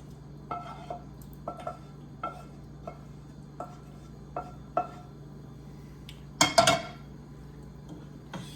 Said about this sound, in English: we're just gonna drop this right into the pot